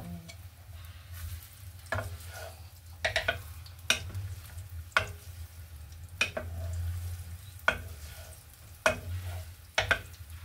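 Sliced onions stirred in a hot pan while cooking pakbet, a spatula scraping and knocking the metal at irregular intervals over a steady low sizzle, close and fairly loud.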